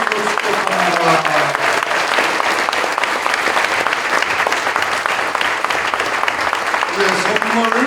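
Loud, continuous clapping from a church congregation celebrating a senior pastor's retirement ceremony, a dense crowd applause that holds steady throughout, with faint voices mixed in near the start and end.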